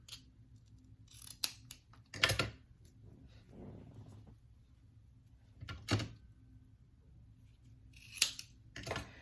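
Scissors snipping through Stampin' Up! paper while making a gift bag, a few sharp separate cuts spread out with quiet pauses and soft handling rustle between them, close and alone.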